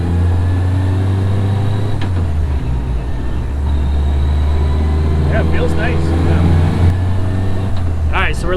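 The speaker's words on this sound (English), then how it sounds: "so we're letting the engine warm up now" A Jeep engine idles steadily while warming up, a low continuous rumble with a slight shift partway through, heard up close alongside faint background sounds.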